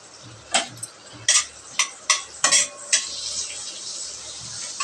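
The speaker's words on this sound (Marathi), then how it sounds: "आता आपण त्याच्यामध्ये 2 विलायची आणि तेजपत्ता टाकून घेणार आहोत." Whole cardamom pods and a bay leaf dropped into hot butter in a pan for pav bhaji tempering, giving a few sharp clinks and taps of a spoon against metal over a steady low sizzle, close by.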